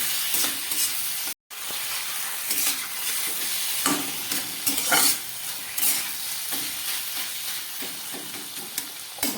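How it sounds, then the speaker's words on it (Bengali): Elephant foot yam stalks frying in a pan: a continuous sizzle with repeated scraping strokes of stirring, heard close, with one short gap in the sound. "এবার এটাকে খুব ভালো করে নেড়ে চেড়ে আমি রান্না করে নেব।"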